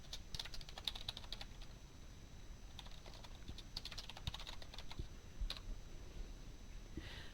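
Steady typing on a computer keyboard in an HTML text editor, with a continuous run of light, quick key clicks at close range and no talking.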